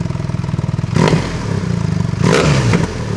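Akrapovic titanium decat header exhaust with its valve open, the engine revving hard in two loud surges over a steady rumbling idle, close and alone.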